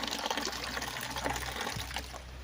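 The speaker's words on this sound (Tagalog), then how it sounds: "ito may gripo tayo dito" Water running from a tap on a roadside farm in Cavinti, Laguna, a steady, fairly faint gushing flow with outdoor background noise.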